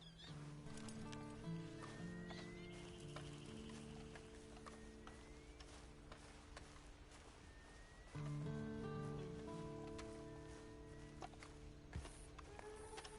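Horse hooves clop softly at a steady walking pace in Red Dead Redemption 2, faint and distant beneath quiet in-game music and ambience.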